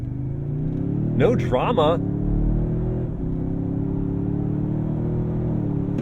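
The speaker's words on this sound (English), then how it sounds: "let's do a 0 to 60 test." A 2023 Toyota Sequoia in sport mode accelerates hard from a standstill in a 0 to 60 run, its engine a steady low drone and rumble heard from inside the cabin, with a brief spoken remark early on.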